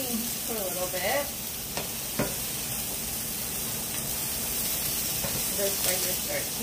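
Peppers sizzling and steaming in a hot pan for a sesame stir-fry, a continuous loud frying hiss with occasional stirring clatter, close up, while a person talks briefly over it.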